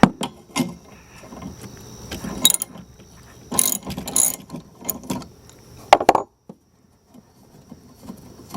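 A ratchet wrench undoes the nut on a car's windshield wiper arm, giving close bursts of metallic clicking and handling noises for about six seconds, then near silence.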